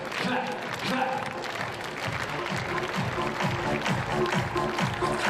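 An athletics crowd at the Golden Fly Series meet in Innsbruck claps in slow, even unison to spur on a jumper, the beats building steadily under a commentator's voice.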